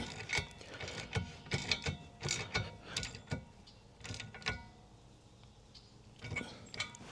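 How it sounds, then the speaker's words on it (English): The locking nut on a Cravot Cyberrack E2 Plus hitch bike rack is tightened by hand, giving a series of close ratcheting clicks in uneven bursts with short pauses between them. "It's got one of the locking nuts on it, so you can just tighten it right up."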